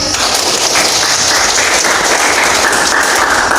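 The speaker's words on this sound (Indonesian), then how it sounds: "Tepuk tangan dulu." A classroom full of children claps loudly and continuously for several seconds, a dense patter of many hands close by.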